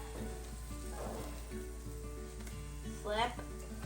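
Pancakes fry in a pan with a soft, continuous sizzle running under a voice and some tonal background sound, with a brief scrape or flip near the end.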